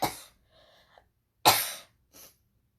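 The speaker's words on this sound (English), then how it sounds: "I'm going to cough anyway." A person gives two sharp coughs about a second and a half apart, close and clear, each followed by a short breath or faint throat sound, with no talking.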